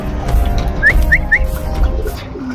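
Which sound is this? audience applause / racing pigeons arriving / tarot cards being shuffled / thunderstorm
racing pigeons arriving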